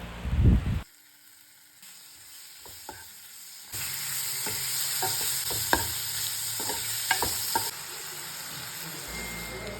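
Squid pieces sizzle in a pan while turmeric, coriander, chili powder and salt are stirred through, with soft scraping stirs and clicks of a spoon over a steady frying hiss that grows louder partway through.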